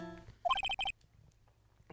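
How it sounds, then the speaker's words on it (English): A short phone ringtone from the Phoenix Wright: Trials and Tribulations game plays as a quick burst of about five bright electronic beeps, then stops, leaving quiet. "What kind of ringtone is that?"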